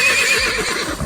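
A horse neighs loudly and close by in a short whinny, with no voices over it.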